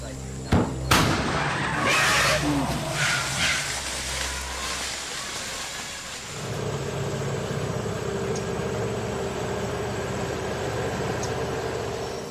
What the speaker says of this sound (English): have ways to scare off the elephants with homemade cannons